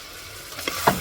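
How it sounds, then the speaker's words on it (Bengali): Raw mango pickle being stirred and fried in a pan with sugar, a soft sizzle running under a few scraping stirs near the end, quiet and close. "এবার আমি এটাকে খুব ভালোভাবে নেড়ে চেড়ে কষাবো"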